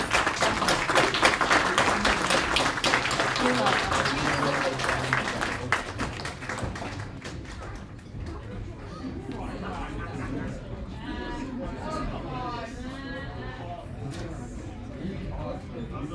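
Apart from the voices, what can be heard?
audience applause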